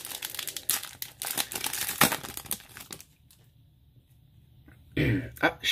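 Yu-Gi-Oh Speed Duel booster pack wrapper being torn open and crinkled, loud close crackling bursts in the first three seconds, a quiet pause, then another sharp rustle near the end.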